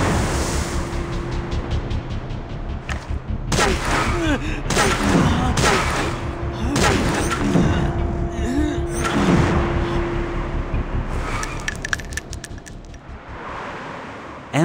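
Gunfire in the video game Dragon Raja: rapid bursts of shots and booming impacts over a busy, roaring game soundtrack, loud and continuous, with a brief line of voiced dialogue.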